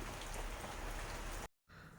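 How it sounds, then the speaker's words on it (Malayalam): Steady rain falls outside with a dense, even hiss, then cuts out abruptly to near silence before resuming more faintly. "പുറത്ത് മഴ പെയ്യുന്നു"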